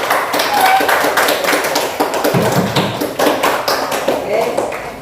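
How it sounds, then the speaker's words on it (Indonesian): A classroom of students applauds for a presenting group, a dense spread of rapid hand claps filling the space, close and steady, with talking mixed in underneath. "kasih tepuk tangan buat kelompok C"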